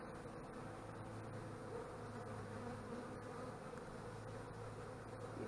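Honeybees buzzing at an open hive during an inspection, a steady, dense drone of many wings that holds evenly throughout, soft and unbroken with no talking.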